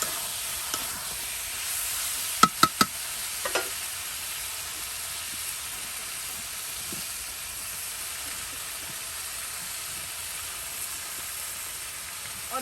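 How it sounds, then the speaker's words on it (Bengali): Chicken pieces with potatoes and spices sizzle steadily while sautéed in a pan, a continuous soft frying hiss with a few sharp clinks of a utensil early on, no talk. "তার সাথে এই যে মাংস আলু মশলা আবার কষানো হচ্ছে।"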